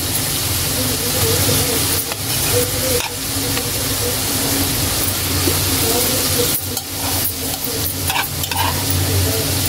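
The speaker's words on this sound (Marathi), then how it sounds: "आपण बीट ह्याच्यात फ्राय करून घेऊया।" Beetroot frying in ghee for halwa, with a loud, continuous sizzle close by and occasional stirring scrapes over the top.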